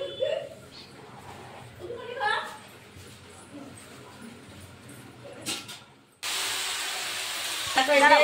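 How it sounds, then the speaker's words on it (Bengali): Leafy greens (shak) frying in a pan burst into a loud, broad sizzling hiss partway through, after a stretch of someone talking over faint kitchen noise. "এঁটে মাছটা রান্না হয়ে গেছে আর শাকটা ভাজা করছি।"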